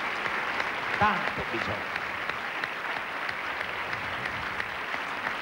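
Audience applause fills a televised Italian awards show, a steady dense clapping that runs throughout while someone speaks briefly over it near the start.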